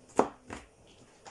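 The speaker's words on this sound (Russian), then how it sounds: "Нарезаем лук." A knife chops onions on a board in a home kitchen, making two or three soft, quick cuts, faint and close, with no voices.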